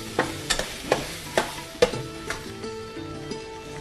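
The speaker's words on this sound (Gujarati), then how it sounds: "બધું મિક્સ કરી દઈએ." A spoon stirs a mashed potato and vegetable mixture for handvo in a bowl. About five rhythmic scraping strokes come close and clear, then fade into quieter mixing.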